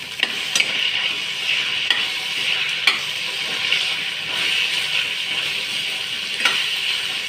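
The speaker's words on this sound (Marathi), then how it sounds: "आपण तेल सुटेपर्यंत परतून घेऊया।" Onion and tomato sauté in oil with a bay leaf, a close steady sizzle broken by repeated clacking stirs of a spoon against the pan, no voices over it.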